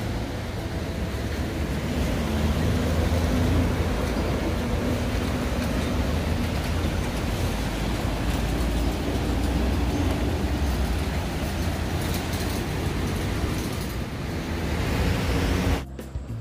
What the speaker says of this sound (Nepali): यो 12 महिना अनवरत रूपमा बगिरहने त्रिशुली नदी।